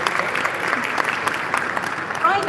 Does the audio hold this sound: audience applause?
yes